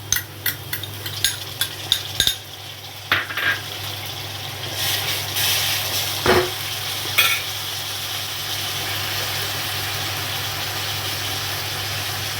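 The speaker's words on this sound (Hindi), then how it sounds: "अब इसमें लहसुन अदरक का पेस्ट डाल रही हूँ।" Onions with garlic-ginger paste fry in a pan over low gas for a mushroom masala, with a steady soft sizzle and a cluster of sharp spoon-on-pan stirring clicks early on, then a few later scrapes, no talking.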